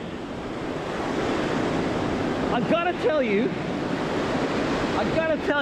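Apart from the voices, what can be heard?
ocean waves breaking on the shore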